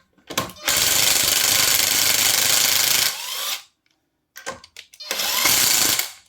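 A Ryobi RIW18-0 cordless impact wrench at power setting 2 hammers loudly while unscrewing a bolt, one long rattling burst of about three seconds, a pause, then short blips and a second sustained burst.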